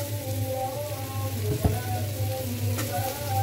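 Finely chopped onion fries in oil for fried rice, a continuous close sizzle under a low steady hum, with one short sharp tap partway through.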